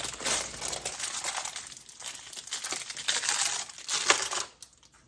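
Regular-mouth canning lids for half-pint jars being unwrapped from their plastic sleeve, giving a continuous close-up crinkling and rustling with small clicks before it trails off.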